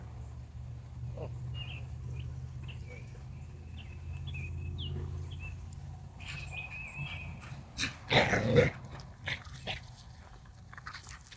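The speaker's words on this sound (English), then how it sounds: "Yeah, dog." Dog outdoors in a strawberry patch, small whimpers and a few short barks, then louder crunching and biting bursts nearby, with birds faintly in the background.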